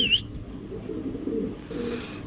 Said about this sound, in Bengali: এই দুইটা হচ্ছে নর, আর এইটা হচ্ছে মাদি কবুতর